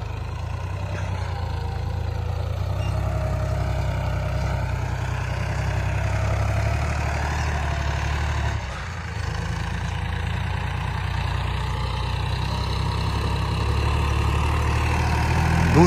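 A Massey Ferguson 245 DI tractor pulls in second gear across a wet paddy field, its diesel engine droning with a steady low chug at close range, holding an even level with only a brief dip partway through.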